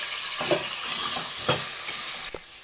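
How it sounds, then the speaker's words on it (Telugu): Vegetables frying in oil for veg biryani, a steady close sizzle with occasional stirring scrapes and clinks of a spoon against the pan. "వెజిటేబుల్స్ వేద్దామండి మన ఆయిల్లో. ఇవి కూడా ఒక 2 నిమిషాల పాటు ఫ్రై చేద్దామండి."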